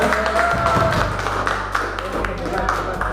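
Applause at a school dissemination event on positive discipline, scattered claps and taps from the gathered audience mixed with voices and a low steady hum underneath.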